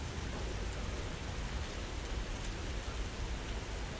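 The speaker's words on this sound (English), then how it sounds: "Hear that lightning and that thunder in the back?" Heavy rain pours steadily with a low rumble underneath during a thunderstorm, a constant wash of noise at even loudness and no voices.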